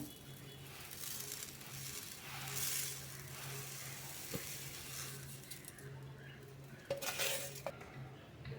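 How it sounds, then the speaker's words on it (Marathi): Sugar is stirred into amla pieces in a vessel for candy, giving a continuous gritty scraping with occasional utensil clinks against the pot, under a faint voice. "ही साखर आहे ना ते आधी पूर्ण मिक्स करून घेऊया"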